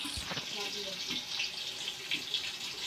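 Natural spring water from the mountains flows and splashes softly nearby, a faint continuous gurgling trickle with small irregular spatters.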